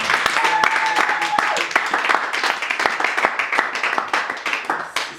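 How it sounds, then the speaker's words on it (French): A room full of people applauds steadily, dense clapping with a few scattered voices, continuing for several seconds. "on peut donner une bonne main d'acclamation"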